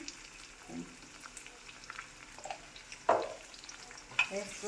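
Onions softening in a pan with a little salt and turmeric, a quiet low sizzle punctuated by occasional spoon scrapes and stirring clinks, close and fairly faint, without any talking.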